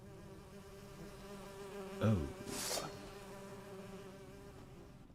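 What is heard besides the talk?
bees buzzing in video game Witcher III Hearts of Stone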